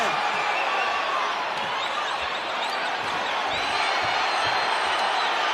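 Boxing arena crowd roaring and cheering steadily throughout a Jose Ramirez versus Barthélemy fight, a dense continuous wash of voices with a commentator talking over it.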